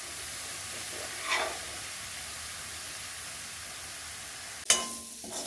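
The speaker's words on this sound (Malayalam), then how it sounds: "അപ്പം ബീഫ് ഇട്ട് കൊടുത്തിട്ട് പോരാത്ത എണ്ണ ഒഴിച്ച് കൊടുക്കും കേട്ടോ" Beef frying in oil with green chili, ginger, garlic and curry leaves gives a steady soft sizzle and hiss, with a brief stir around the middle and a sharper clatter and burst of sizzling near the end.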